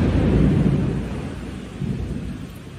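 Rain pours steadily while thunder rumbles loud and close, a deep roll that swells early and then eases into a continuous storm wash.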